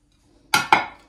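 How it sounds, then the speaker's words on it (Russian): Two quick ceramic clinks of new plates bought for a holiday table, knocked together close by in brisk succession, bright and ringing, with a faint third touch at the end. "Ну и из новенького еще взяла вот эти тарелки."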